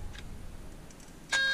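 A short electronic beep from a radio switching on sounds once near the end, clear and fairly loud against quiet background hiss, after a faint earlier chirp.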